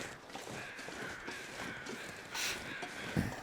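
Crows caw near a train derailment, several harsh calls standing out over a soft outdoor background.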